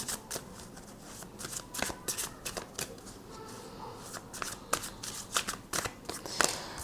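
Tarot cards shuffled by hand before a three-card draw, a steady run of soft riffling and slapping bursts, close and fairly quiet, with no talking.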